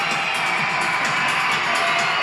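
Steady roar of an indoor soccer crowd cheering at a St. Louis Ambush versus Kansas City Comets game, a dense wash of voices that fills the arena continuously without breaks.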